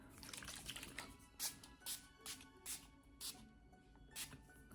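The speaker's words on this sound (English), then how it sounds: "I'm gonna take the Tower 28 Facial Rescue Spray now and spray that." Tower 28 Facial Rescue Spray misted onto a face over powder makeup: about eight short, soft hissing spritzes in an uneven rhythm, close and quiet, with no talk.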